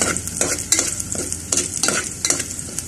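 Sardines fry in a pan with garlic while a spatula stirs and scrapes them in quick repeated strokes over a bright, steady sizzle, close up and with no voices.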